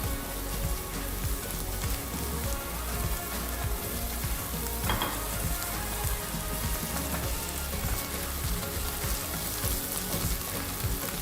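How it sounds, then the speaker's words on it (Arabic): Minced garlic, about five cloves, stirred into wilted onion in a hot pan for a potato casserole, a steady dense sizzle of frying with scraping stirs, close and continuous throughout. "هنزل كده بمعلقه صغيره من الثوم، حوالي 5 فصوص ثوم مفرومين، اقلبهم كده مع البصله"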